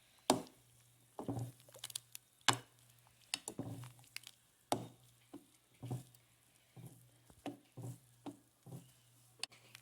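Salt and green onion get mixed into a pancake filling in a bowl, giving soft squishy taps and pats at an irregular rhythm, fairly close and quiet over a faint hum.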